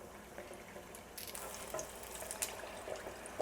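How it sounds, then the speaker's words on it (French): Pork tonkatsu cutlet deep-frying in a fryer for a Japanese recipe, a steady soft sizzle and crackle of hot oil that runs continuously and grows slightly busier after the first second, heard alone. "Et là, on dépose ça dans la friteuse."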